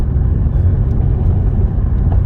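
2009 Chevrolet Malibu Hybrid with its transmission in limp mode, driving under light throttle, giving a steady low engine rumble and road noise heard from inside the car, even and continuous.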